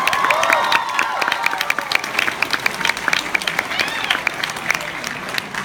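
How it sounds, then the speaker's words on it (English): A convention panel audience at Anime Expo 2017 applauds the design team, with a dense patter of clapping and some cheering mixed with voices talking over it. "can we get a round of applause to our design team?"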